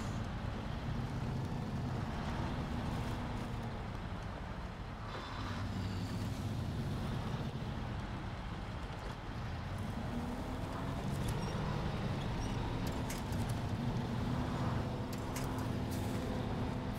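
A truck engine in Snowrunner, a video game, drones steadily and loudly as the heavy vehicle ploughs through mud, a constant low rumble with faint higher mechanical whines throughout.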